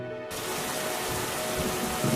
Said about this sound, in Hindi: कुछ दिनों बाद बहुत तेज बारिश होने लगी